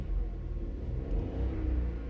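A 2020 Volkswagen Polo 1.0 TSI engine revs under acceleration with a low, throaty rumble that swells slightly and holds steady, heard close with no speech.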